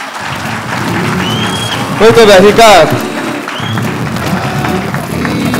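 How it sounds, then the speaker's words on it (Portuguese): An audience applauds for Ricardo during a talk, the clapping a steady broadband wash beneath a voice speaking over it, with a brief louder swell in the middle. "Palmas pro Ricardo!"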